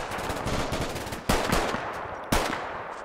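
Machine gun fire in Combat Mission: Red Thunder, a rattling stream of rapid shots with two sharper, louder bursts standing out, heard alone amid close-quarters fighting along tree lines.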